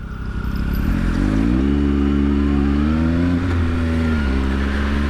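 A 2020 Triumph Speed Triple RS super naked motorcycle engine drones loudly and steadily while riding through traffic, its pitch rising and falling through several rev changes with no talk over it.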